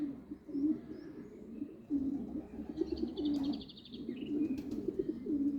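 Young pigeons in a breeder's loft cooing in low, soft, repeated phrases, with a few faint higher chirps and a brief flutter of wings, fairly close and quiet, with no voices.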